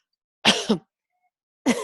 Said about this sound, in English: it's making me cough a little bit